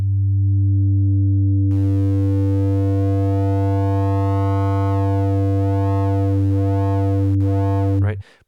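A pure sine tone from the Serum software synthesizer runs through its diode distortion effect, a steady loud buzzing hum whose upper harmonics shift and sweep as the drive changes, ending abruptly.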